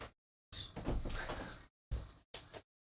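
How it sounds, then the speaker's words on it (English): A door is shut behind a dog on its way out, giving several short bursts of handling noise and a closing thud, each separated by brief silences, close by and moderately loud. "I just closed the door behind her."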